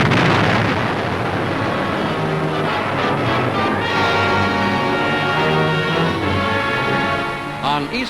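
Naval bombardment of Okinawa in 1945, heard on old archival footage: continuous heavy rumbling booms and blasts fill the whole stretch, loud and dense, with muffled narration faintly beneath.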